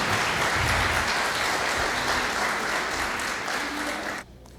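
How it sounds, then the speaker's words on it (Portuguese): Church congregation clapping loudly for Jesus during a Portuguese-language sermon; a thick, sustained wash of applause from a large crowd that cuts off abruptly near the end. "aplauda o Senhor Jesus com mais força"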